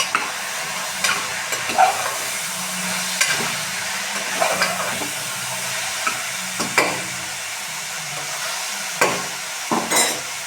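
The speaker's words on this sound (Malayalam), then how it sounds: "പിന്നെ ഇളക്കി കൊടുക്കാം." Banana stem thoran with turmeric, salt and red chilli frying in a pan, stirred repeatedly: a continuous close sizzle punctuated by irregular scraping and clattering strokes of the spoon against the pan, no voices.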